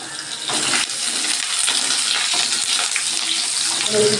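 Potato pieces crackle and sizzle in hot oil in a wok, a loud continuous frying hiss with scattered pops throughout.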